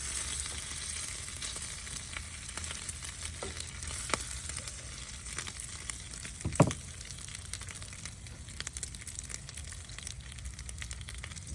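Bacon frying on a Blackstone griddle, a continuous close crackle and sizzle with occasional pops and a few clinks of a utensil.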